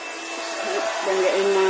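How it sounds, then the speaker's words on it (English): Heat gun warming up to melt embossing powder on a card, a close, steady blowing whine with a whirring tone that rises in level toward the end. "I'm just going to heat my gun up."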